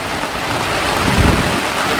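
Heavy unseasonal rain pours down at a shepherds' camp in a dense, loud, continuous wash, with a low rumble of thunder rising in the middle. No voices.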